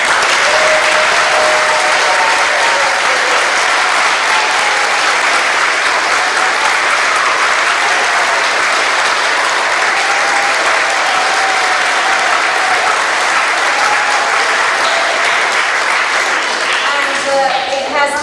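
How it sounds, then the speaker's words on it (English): Loud, steady applause from a school audience rewards poetry finalists standing up after a poetry competition, a dense continuous wash of clapping with occasional cheers lasting throughout. "can we give them a big clap?"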